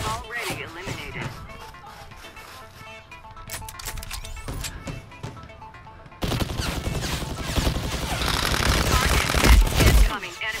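Recoil laser tag guns fire electronic sound effects during free-for-all play, with sparse bursts first and then denser, louder rapid shots in the second half, mixed with synthetic game voice announcements.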